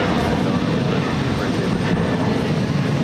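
An American Airlines Boeing 737-800 taking off at Boston Logan gives a loud, steady broadband engine roar throughout.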